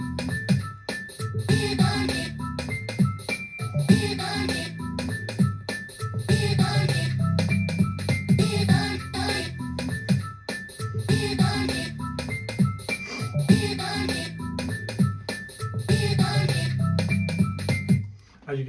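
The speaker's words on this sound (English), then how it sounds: "So I've added drums, obviously, piano and bass and synths, and it sounds something like this." Modern R&B beat built from a chopped gospel vocal sample, with drums, piano, bass and synths playing a steady, looping groove that stays loud and dense throughout.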